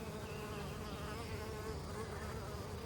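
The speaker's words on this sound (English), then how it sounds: "Over the next hour, more and more bees appear." Honeybees buzz around the hive in a continuous, even drone, many insects overlapping at a soft, moderate distance.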